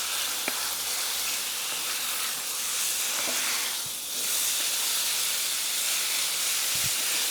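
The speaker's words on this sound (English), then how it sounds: "Listen for the sizzle, guys." Chicken sizzles in hot oil with a continuous bright hissing crackle, close and steady, dipping briefly midway before resuming, with a few faint knocks.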